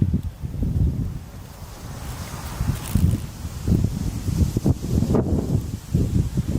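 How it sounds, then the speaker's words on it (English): Strong wind gusts across a campsite at night, buffeting the microphone in irregular low rumbling surges that rise and fall throughout. "Man, that wind is really picking up tonight."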